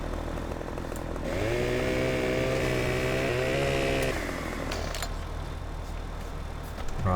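A chainsaw trimming a tree in Farming Simulator 2015, running as a loud, steady engine drone that rises into a higher-pitched cutting whine for a few seconds, then settles back to idle.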